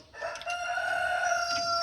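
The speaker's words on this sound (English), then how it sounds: "We got roosters crowing in the background." A rooster crows once, a long drawn-out call carrying from a short distance away.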